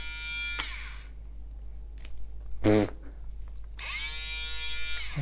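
A Worker Hurricane blaster motor revs in high, whining buzzy bursts, with a loud spin-up at the start, a short rough burst in the middle and a sustained whine at the end, separated by quieter gaps.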